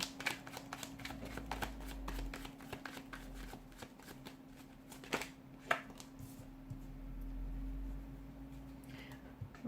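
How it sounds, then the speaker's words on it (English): A deck of tarot cards is shuffled repeatedly, crisp riffling bursts and taps in quick succession, close and fairly quiet. "give the cards a shuffle"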